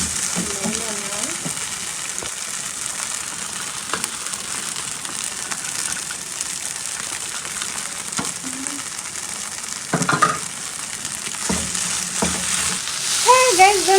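Onions with tomatoes frying in a pan over low to medium heat, a continuous close sizzle with occasional stirring scrapes and clinks, a voice briefly audible in the background.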